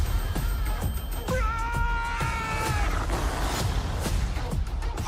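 A cartoon cat lets out a drawn-out, wavering meow lasting a couple of seconds, set against a dense, busy backdrop of music and effects.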